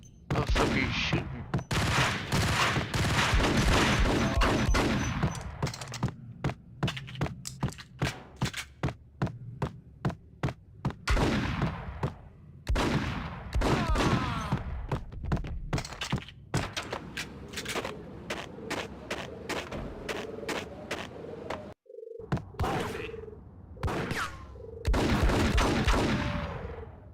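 Gunfire from the video game Max Payne: rapid bursts and volleys of shots in dense clusters, loud and near, with pauses, a low hum and brief stretches of quieter background between exchanges.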